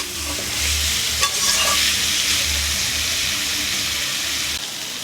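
Spice paste with chopped tomato and salt sizzles steadily in a pan for a vegetarian potato and pointed gourd curry, with close stirring scrapes throughout and no talking.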